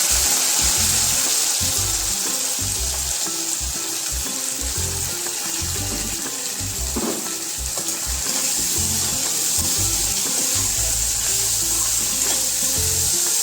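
Onion, cumin, mustard seeds, green chillies and curry leaves frying in hot oil for uggani, a loud steady sizzle with stirring scrapes throughout and no talk.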